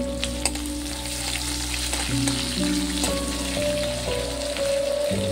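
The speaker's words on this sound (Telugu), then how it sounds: "కొద్దిగా కరివేపాకు, ఈ మొత్తం బ్రౌన్ కలర్ వచ్చేలాగా ఆనియన్స్ ఫ్రై చేసుకుందాం" Onions and curry leaves sizzle steadily in a hot pan for Telugu tomato rice, a continuous close frying crackle with occasional stirring clinks, no voices.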